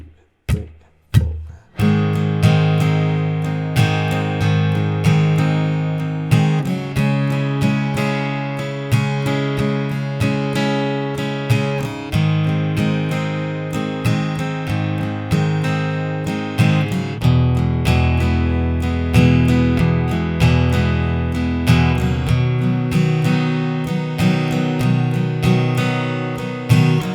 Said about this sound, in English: And that's it for the verse, which sounds like this in total.